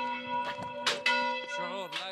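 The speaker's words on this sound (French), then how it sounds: "Faire sonner cette cloche" A church bell rings at a Middle Eastern Christian church, its sustained, rich metallic tone swelling with repeated strikes and lingering overtones.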